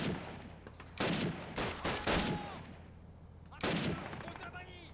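Gunfire in the Call of Duty video game, including pistol shots: several sharp loud bursts spaced through the stretch, with a few separate cracks between them over a low background hum.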